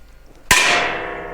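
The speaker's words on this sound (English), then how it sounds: "I just need to centre punch them" A single sharp metallic clang as a hammer strikes a centre punch on steel to mark drill holes for mounting onto a trailer, ringing out and slowly decaying after a brief quiet lead-in.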